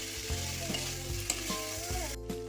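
Cauliflower and potatoes frying with spices and a splash of water in a pan, a close, continuous sizzle with soft stirring scrapes and small crackles throughout.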